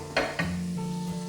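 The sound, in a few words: stirring dried prawns frying in oil in a pan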